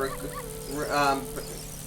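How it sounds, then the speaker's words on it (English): Dogs barking in The Legend of Zelda: Ocarina of Time Master Quest, a few short yips and barks over steady game music, with someone talking over them. "I wanna avoid these dogs"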